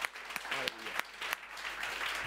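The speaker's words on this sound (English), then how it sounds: "And give Stephen a clap because it was a great preach" A church congregation claps after a sermon, the applause soft and fairly distant, forming a continuous patter with a few sharper claps and a faint voice underneath.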